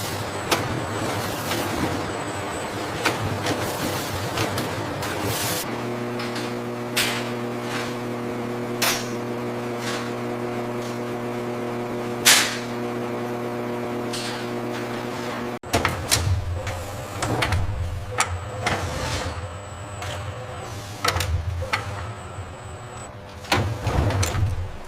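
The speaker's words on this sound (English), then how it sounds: "The incubation trays slide into the large setter machine." Egg incubation trays sliding into a large hatchery setter machine, with clunks and metallic knocks over a steady mechanical hum that stops partway, followed by more rattling impacts.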